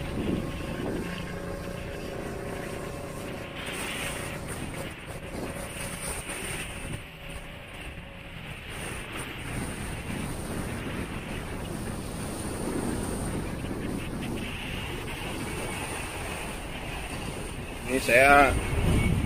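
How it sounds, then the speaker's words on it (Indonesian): Strong wind and big waves at the sea wall in Muara Baru, Penjaringan, North Jakarta, a continuous loud roar of gusts and surf buffeting the microphone, with someone speaking briefly over it. "Dan ini ombaknya memang lagi gede ya, atau anginnya kencang sekali."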